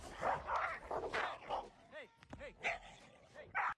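Two dogs fight in a park, with a rapid scuffle of growls, yips and whimpering barks. A person talks over the noise throughout, close and fairly loud.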